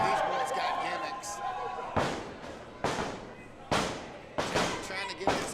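A wrestler crashes into a door at a live wrestling show, one of several heavy thuds and slams landing in quick succession, loud and close, with a commentator talking underneath.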